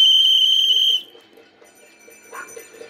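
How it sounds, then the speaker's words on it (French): A shrill, sustained whistle blast cuts off abruptly after about a second, followed by faint high tones and quiet background. "Avec mon sifflet, j'essaye"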